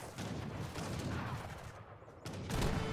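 Cannon and artillery volleys fire in an Age of Empires III battle, a dense crackle of overlapping booms and bangs that keeps going and swells near the end.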